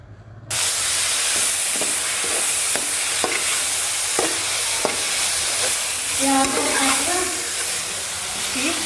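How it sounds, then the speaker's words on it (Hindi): Minced meat drops into frying masala and bursts into a loud, close sizzle that keeps going steadily, with the clink and scrape of stirring on top. "अब इस कीमे को इसके अंदर हम ऐड कर देंगे मसाले के साथ"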